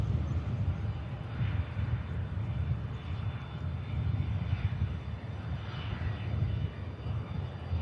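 A sixteen-year-old French-registered Cessna Citation business jet touches down at Manchester Airport, its engines a faint, steady distant rumble with a soft whine above.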